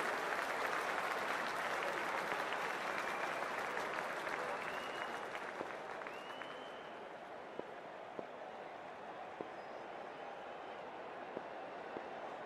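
Cricket stadium crowd applauding before a women's Hundred match between Birmingham Phoenix and Southern Brave, a broad steady wash of clapping and crowd noise that eases slightly, with a few sharp claps and whistle-like tones standing out.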